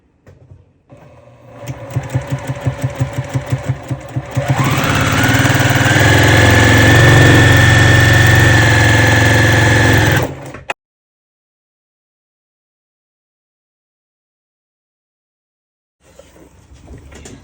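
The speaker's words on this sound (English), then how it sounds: "And now we are going to sew on either side of both of these lines by a 1/4 inch." A sewing machine stitching quilt blocks for half-square triangles runs in a slow, stuttering start, then settles into a loud, steady whir for several seconds before stopping abruptly. Silence follows, then a brief restart.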